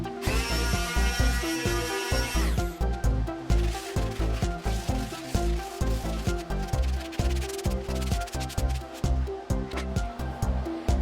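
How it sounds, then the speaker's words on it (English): A sanding sponge rubs back and forth over the rounded edges of a wooden family-crest piece, making steady, rhythmic scratchy strokes that continue close and loud throughout. "use a sanding sponge to clean it up"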